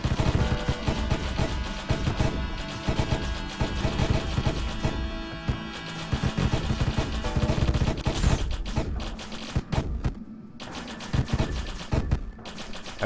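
Missile launches and explosions in the video game Deathstate, a dense barrage of rapid blasts and crashing impacts layered over busy game music, loud and continuous throughout with no pauses.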